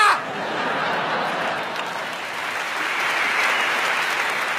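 A comedy-show audience breaks into applause, a steady roar of many hands clapping at moderate distance, swelling slightly and holding with faint laughter mixed in.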